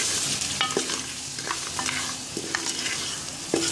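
Mutton fries with spices in a pan under a steady sizzle, while a spoon stirs it in repeated scrapes and occasional clinks against the metal, and no voices are present.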